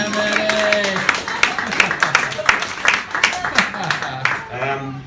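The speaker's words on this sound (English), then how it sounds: "Give Matty a big round of applause." A stand-up comedy crowd applauds and cheers a comedian at the end of his set, loud close clapping mixed with voices and an emcee speaking over it.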